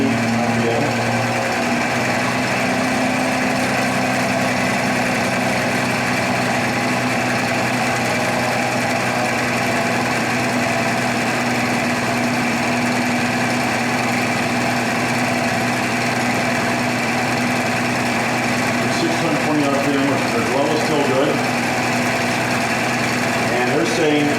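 A Sun distributor test machine runs steadily at 620 RPM, a continuous loud mechanical whir and hum with a slight flutter near the end, holding an even tone throughout.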